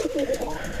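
A toy Lahori pigeon gives a short, soft coo lasting under a second, close by and fairly quiet, with faint low background noise.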